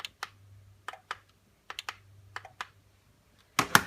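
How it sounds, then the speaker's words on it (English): A faulty remote control socket whose relay contacts seem stuck together, giving a series of sharp, dry clicks spaced irregularly over a faint hum, with a louder clattering click cluster at the end. "If I switch it off, light's still on. You can hear it click."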